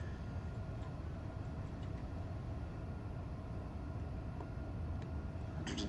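An Amtrak Acela Express in a train simulator game runs along the Northeast Corridor between New York and Trenton, giving a steady low rumble and hum with no pauses and no speech.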